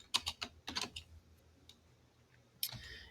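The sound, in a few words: typing on a computer keyboard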